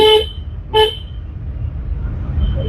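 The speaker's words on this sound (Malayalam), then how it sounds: "സൈക്കിളിന് ഹോൺ അടിച്ചറിയിക്കാൻ വണ്ടി വരുന്നുണ്ട്" A car horn toots twice in short, clear blasts, followed by the low rumble of passing road traffic.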